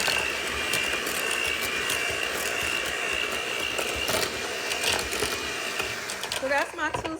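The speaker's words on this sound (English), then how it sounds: "I'm going to use the mixer, hand mixer." Electric hand mixer creaming two sticks of butter with sugar for old-fashioned tea cakes: a steady, close whirring motor with rattling beaters against the bowl, slowing and stopping near the end, heard under a voice talking.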